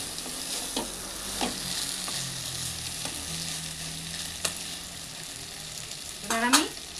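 Cabbage and fish head curry with potatoes, freshly salted, stirred in a pan, a low continuous sizzle broken by scattered spatula scrapes and taps, ending in a louder scrape near the close.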